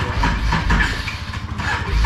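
A Can-Am Renegade ATV engine, just thawed out, runs steadily at close range, a continuous low rumble with no talk over it.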